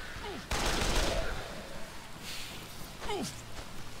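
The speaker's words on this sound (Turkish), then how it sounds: "Biri beni vuruyor." Gunfire in the Dead Island zombie video game multiplayer, a dense burst of shots kicking in sharply and rattling on steadily in the middle distance, with a whistling sweep and a short vocal gasp at either end.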